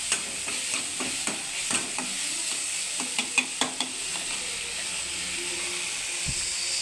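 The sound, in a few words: lightly frying beans palya in a pan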